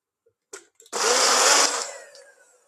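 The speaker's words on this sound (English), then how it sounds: "Give it another little blend just to mix that all around." A blender briefly whirs a comfrey poultice mixture. A couple of small clicks come first, then a loud, close, roughly one-second buzz that winds down.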